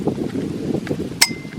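Gusty wind buffets the microphone at a bushcraft spring cookout beside a small stove heating a pot, a steady low rumble with one brief bright clink near the end.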